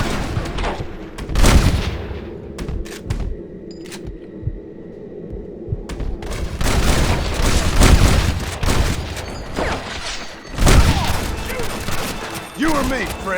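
Gunshots ring out in a Red Dead Redemption firefight, sharp cracks and rapid volleys arriving in loud bursts amid battle noise, with characters shouting and talking between shots.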